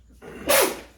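One sudden human sneeze bursts out close by, a sharp breathy blast that tails off within half a second after a short intake.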